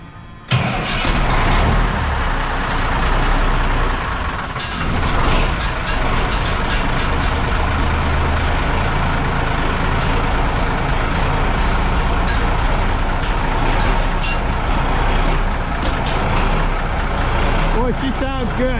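An old heavy-haul truck with classic rain caps on its exhaust cranks and fires up, then settles into a loud, steady diesel idle, with people talking over the running engine.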